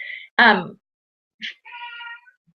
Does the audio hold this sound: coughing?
no